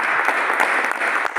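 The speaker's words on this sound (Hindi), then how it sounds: "जोरदार ताली हो सर के लिए।" A crowd at an AWPL gathering breaks into brief, dense clapping that stays steady and fairly loud throughout.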